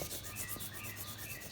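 Crayon rubbed steadily across paper to make a rubbing, a soft, continuous scratchy swish close by and faint, with no voices.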